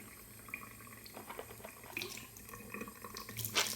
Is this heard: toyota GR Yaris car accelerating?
no